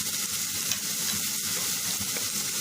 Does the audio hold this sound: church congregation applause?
no